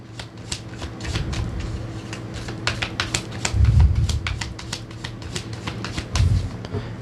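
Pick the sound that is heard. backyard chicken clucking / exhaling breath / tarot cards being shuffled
tarot cards being shuffled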